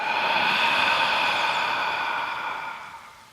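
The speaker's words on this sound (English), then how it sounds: "Open mouth, exhale out." One long, breathy exhale through an open mouth during a yoga flow, close and loud at first, then slowly fading over about three seconds.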